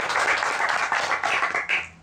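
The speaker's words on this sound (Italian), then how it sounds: "Quindi un altro applauso ancora." Audience applause at the award ceremony for the 11th edition of the Otto Milioni prize, a dense burst of clapping that swells and then tapers off within two seconds, with little else audible.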